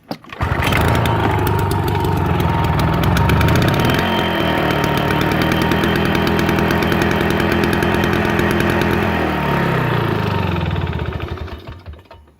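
A small 2-cycle GTS garden tractor engine, choked, fires up and runs loud and steady close by, its rough buzzing drone holding for about ten seconds before cutting off and winding down.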